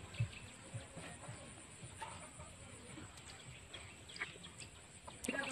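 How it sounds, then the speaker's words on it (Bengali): Desi hens resting together on a raised bamboo platform give soft, scattered clucks at moderate distance over a steady hiss of background noise, with a louder call near the end. "দেখুন এগুলো বেশ বড় বড় মুরগি"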